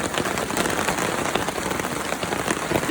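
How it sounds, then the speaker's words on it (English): Heavy rain pours steadily onto a campsite at Salsman provincial park, a dense, even hiss of drops hitting surfaces close by with no letup. "Can you hear the rain?"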